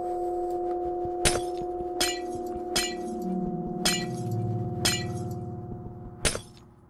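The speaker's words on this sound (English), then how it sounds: "Why am I breaking glass?" Repeated glass breaking in a horror video game, six sharp crashes spaced about a second apart over a steady droning hum and a low sliding tone.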